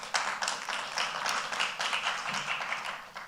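Audience clapping at a government plastics leadership event, a steady patter of applause from a modest crowd lasting the whole moment.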